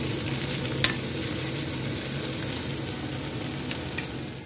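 Ginger and green chilies fry in a pan with a steady, close sizzle, broken by one sharp clink of a utensil against the pan and a fainter tap near the end.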